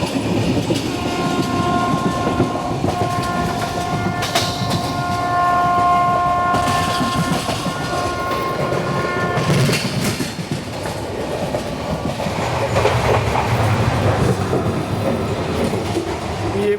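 12767 Hazur Sahib Nanded Santragachi SF Express train under way, with a continuous rumble and rhythmic clickety-clack of wheels, a horn sounding in the middle and brief squeals, heard from on board.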